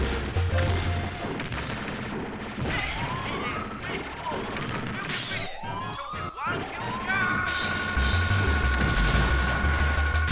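Rapid machine gun fire from a fighter plane in Aero Fighters 3 (Sonic Wings 3), a 1995 Neo Geo arcade shoot-'em-up, rattles continuously amid explosions, sweeping effects and game music, loud throughout.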